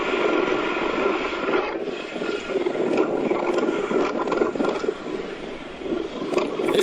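A large aircraft makes a landing approach on a runway, with a broad, continuous roar and rumble that holds at a steady loudness, with scraping mechanical texture and no voices.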